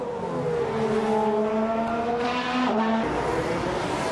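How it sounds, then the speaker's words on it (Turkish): High-pitched Formula 1 race car engines whine and rise in pitch as they roar past during practice laps at the Sakhir circuit, loud and continuous, with a brief tire screech near the end. "Sakir pistindeki büyük mücadelede motor sesleri ilk olarak antrenman turları ile yükseldi."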